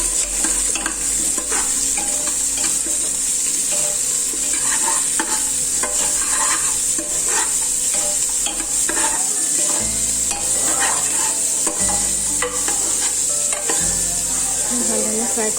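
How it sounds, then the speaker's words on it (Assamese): Onion, carrot and peas fry loudly in a pan under a continuous dense sizzle, with repeated stirring and scraping strokes throughout. "এইখিনি ভাল ধৰণে অলপ ভাজি ল'ব লাগিব"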